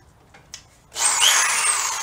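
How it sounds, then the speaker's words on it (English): An electric chainsaw starter spins a 24-year-old Stihl 018C chainsaw after a couple of faint clicks, a loud steady whirring, buzzing drone that holds close by. "with my electric chainsaw starter."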